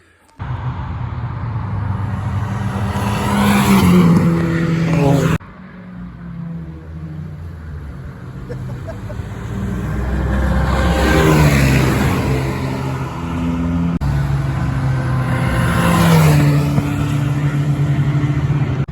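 A modified turbocharged car makes repeated passes on a race track day, its engine rising and falling loudly as it revs and accelerates by, with no talk.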